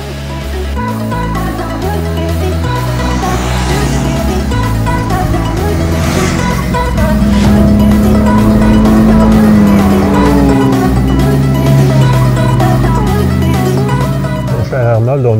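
A 2019 Yamaha YZF-R3 motorcycle accelerates away on a road in the Laurentides, its engine droning loud and close and rising in pitch midway with a steady, sustained roar.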